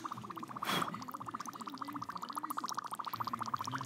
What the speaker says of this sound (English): Look, it's like boiling. It's boiling, freezing.